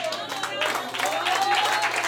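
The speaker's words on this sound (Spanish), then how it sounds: "¿Cuánto un aplauso a Dios esta noche?" Church congregation applauding for God during an evening service, a fairly loud wash of many hands clapping with a crowd murmur beneath, rising slightly and holding steady, with voices audible under the applause.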